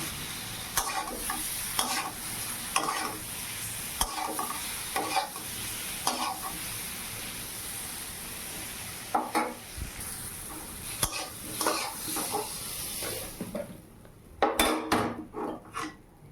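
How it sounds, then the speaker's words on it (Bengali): Pressure-cooked taro pieces fry in oil in a pan while a utensil stirs them, giving repeated scraping clinks against the pan over a steady sizzle. The stirring strokes come in an irregular rhythm with a brief clatter near the end, and no one speaks. "কচুটা প্রেশারে একটা দিয়ে নিয়েছি তো যে ভেজে নিচ্ছি"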